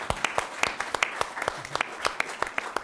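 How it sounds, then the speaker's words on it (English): A campus audience at an entrepreneurship and social impact event gives a round of applause: a modest spread of separate, sharp hand claps in a loose, uneven rhythm, fairly close and with no voices over them. "So let's just give a round of applause for them."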